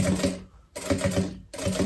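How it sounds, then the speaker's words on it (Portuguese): A sewing machine stitches the lining of a tote bag in three quick bursts of rapid, rhythmic needle clatter, with short pauses between runs, close by and fairly quiet. "Agora, então, eu vou costurando aqui."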